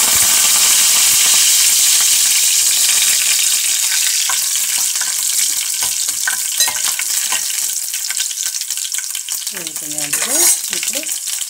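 Cumin, mustard seeds and a fresh curry leaf sprig crackle and sizzle loudly in hot oil, a constant frying hiss with sharp popping spurts throughout.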